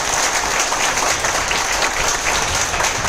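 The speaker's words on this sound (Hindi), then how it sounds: "तो एक बार आप सभी के लिए बेशुमार तालियां" An audience at a training session in Surendranagar breaks into loud, dense applause that carries on unbroken from start to finish, with no talk over it.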